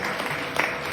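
Audience applause for a jewelry set presented at a 2023 showcase, a steady wash of many hands clapping throughout, with a few louder bursts standing out near the end of the short stretch.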